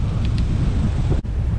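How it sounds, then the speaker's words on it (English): A strong headwind buffets the microphone on a long road bike ride, making a loud, continuous roar with gusting swells and one brief dropout. No one speaks. "So right now we're headed south. So yeah, we've got a headwind"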